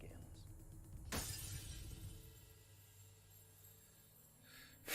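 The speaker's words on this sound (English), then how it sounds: "The smashing of mirrors begins." Mirrors smashed and shattering, a sudden loud crash near the one-second mark trailing into scattered tinkling debris, with a second burst at the end, in a horror drama scene with people talking under it.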